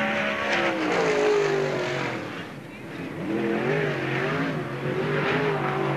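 Race car number 99 lapping Freeport Raceway in a NASCAR Busch All Star Tour event, its engine note rising and falling as it passes by, with an announcer's voice talking over the top.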